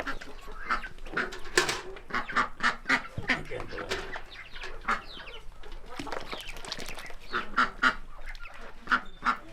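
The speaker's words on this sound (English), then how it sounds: "There's something so calming about watching them waddle around, quacking happily." Ducks quack loudly and repeatedly while being fed, a busy overlapping chorus of harsh honking calls close by.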